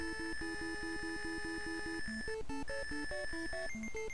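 In the Nintendo Black Bass fishing game, a rapid string of identical electronic beeps warns that the fishing line is about to snap, then gives way to a bouncing chiptune melody, all loud and free of talk.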